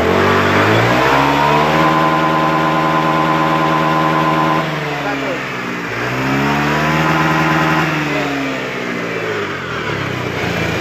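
A Honda Beat scooter engine with a fault that makes it stutter, held at full throttle in a steady loud rev, with the pitch dipping and recovering twice as it runs.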